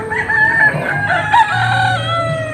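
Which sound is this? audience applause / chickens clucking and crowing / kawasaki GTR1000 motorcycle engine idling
chickens clucking and crowing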